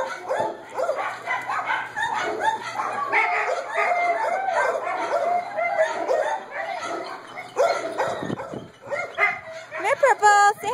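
A dog barks and yips in short bursts amid lively overlapping chatter from several people nearby.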